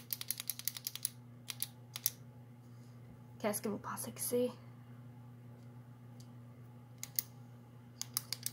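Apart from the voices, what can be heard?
ballpoint pen clicking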